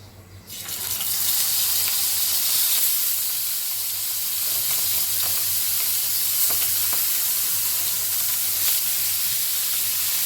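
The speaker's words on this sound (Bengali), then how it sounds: "মাছটা আমি হালকা করে ভেজে নিই" Fish frying lightly in a pan gives a loud, steady, close sizzle with an even hiss that holds for the whole stretch after a sudden start; no talking.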